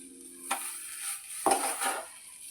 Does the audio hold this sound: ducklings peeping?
no